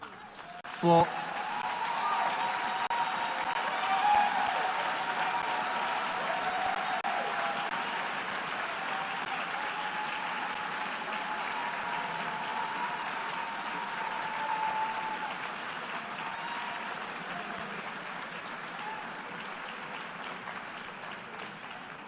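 Sustained applause fills the UN General Assembly hall after Security Council members are elected, a broad steady wash of clapping from a large crowd, with a brief spoken word near the start.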